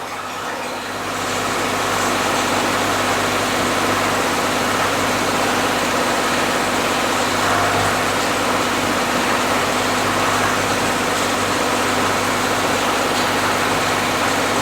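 A 2013 Ram 1500 4x4 with the 3.6 engine running steadily at about 1800 RPM, a loud, continuous close-up drone with a low hum and no pauses.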